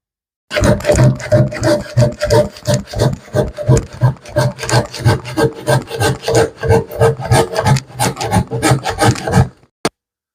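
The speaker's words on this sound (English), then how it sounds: "I'm going to break out the old Japanese handsaw" A Japanese handsaw cuts through thick wood in fast, loud, steady back-and-forth strokes, dozens of rasping pulls in a row that stop abruptly near the end.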